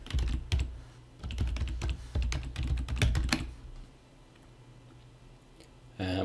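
Rapid bursts of keystrokes on a computer keyboard as a long password is typed, loud and close, then a quiet pause before a final short flurry of keys.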